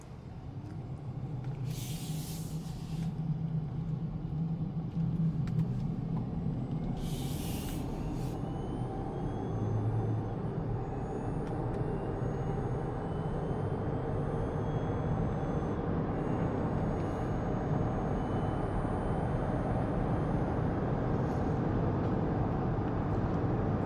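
Steady road hiss and tire noise inside a 2022 Jeep Grand Cherokee 4xe Overland hybrid driving in electric mode, with a faint thin whistle running throughout and two short bursts of sharper hiss early on.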